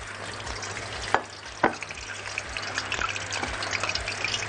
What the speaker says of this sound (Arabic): تعالوا بينا بقى ننزل مكعبات البطاطس اللي احنا محمرينها عادي جدا فيهاش اي حاجة، وقلبها كويس في الخلطة بتاعتنا